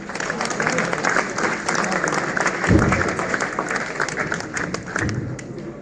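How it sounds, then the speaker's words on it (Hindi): Steady applause from an audience at an event in Bahawalpur fills the clip, a dense patter of clapping that holds without a break. "आपकी भरपूर तालियों में पारस हजारी।"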